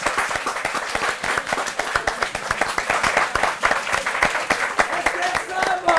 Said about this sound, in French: On applaudit encore Esther Sam